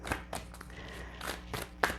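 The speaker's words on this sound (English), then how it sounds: "I'm going to shuffle our oracle cards" Oracle cards are shuffled by hand in a quiet room, giving several short papery riffling bursts at an irregular pace, soft and close.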